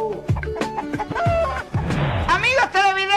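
A chicken clucks and cackles loudly and close, a rapid run of clucks building into a drawn-out squawk, with a voice nearby.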